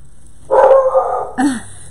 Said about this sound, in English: there goes my dog again. You guys, she will bark at nothing.